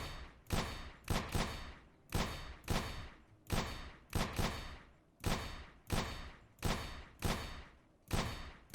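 Rapid gunshots from an aim-training video game as the player flicks between targets, about fourteen loud sharp reports in an uneven, quick rhythm, each with a short decaying tail, with no talk.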